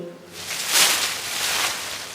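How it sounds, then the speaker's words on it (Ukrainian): Dry autumn leaves rustle in a soft, continuous hiss that swells around the middle and again later, steady and moderately close with no voices. "Звичайно, це шелестить моє осіннє листячко."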